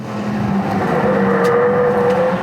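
Steady, close engine hum of a Jeep Wrangler on a test drive, heard from inside the cabin with a constant drone and no talking.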